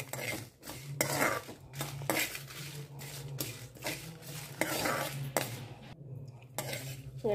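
Dry red chilies fry in a pan while a utensil stirs and scrapes against the metal in repeated bursts over a low sizzle, close by, with no voices.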